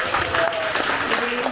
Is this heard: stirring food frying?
no